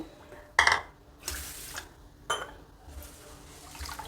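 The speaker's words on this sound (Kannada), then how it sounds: "ಈಗ ನೀರು ಹಾಕಿ ಚೆನ್ನಾಗಿ ತೊಳಿಬೇಕು" Water splashing in short bursts as soaked rice is washed in a kitchen vessel for rice kadubu, three or four brief swishes and pours at close range with quiet pauses between.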